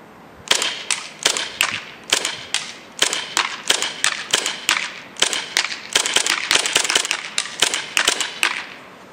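KWA KMP9 airsoft gun firing on semi-auto, a rapid series of sharp, close snapping shots in uneven bursts of two to four with brief gaps, loud and steady throughout with no talking.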